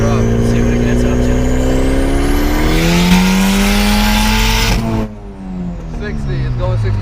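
A race car's engine is revved as its idle is raised during street tuning on a cold engine. The loud close drone climbs in pitch, then drops sharply and settles back to a steady idle.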